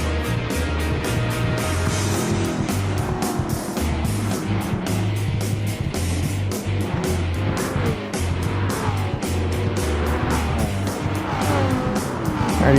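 750-class race cars in a Challenge Series race, engines droning loud and continuous, with steady revving and a rising roar near the end.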